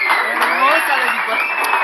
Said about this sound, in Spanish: Vamos a darle un fuerte aplauso a la Barbie Juárez.